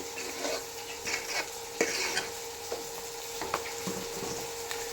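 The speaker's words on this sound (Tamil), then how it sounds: "அதை எடுத்து நம்ம அப்படியே கொட்டிட்டு மிக்ஸ் பண்ணி விட வேண்டியதாங்க" Hot tempering poured into a pot of sambar and stirred in, giving close scraping and stirring clatter with brief sizzling bursts and a steady kitchen hum, no talking.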